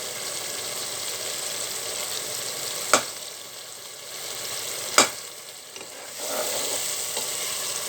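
Taro corms for a rohu fish curry are stirred in a hot pan, with a continuous steady sizzle and two sharp metallic clinks from the spoon against the pan.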